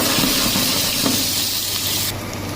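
Onion sizzling in a hot pan while Kerala-style sambar is cooked, a steady close hiss and crackle that carries on throughout, with a faint clink partway through and a slight drop in brightness near the end.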